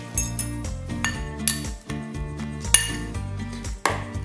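Rice flour and margarine being mixed in a bowl, with a series of close clinking, tapping knocks of utensil against the bowl in an irregular rhythm, no talking.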